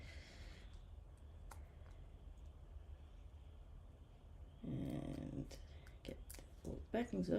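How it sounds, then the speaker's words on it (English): A dog snoring and snorting in the background while someone talks, with rough snuffly bursts that get louder toward the end. "apologies if you can hear my dog snoring and snorting in the background"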